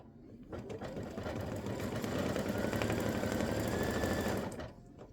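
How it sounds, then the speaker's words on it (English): An embroidery machine stitching a Thanksgiving turkey running back design, a rapid mechanical whir with dense rhythmic needle clatter that ramps up, runs steadily for several seconds and then stops, close and alone. "I'm going to let this stitch, and then I'm going to let it stitch again"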